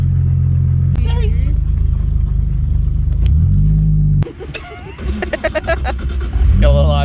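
Manual drift car engine revving hard near the top of fourth gear, a loud, close, steady roar that cuts off abruptly, followed by rattles, clunks and a renewed rising rev.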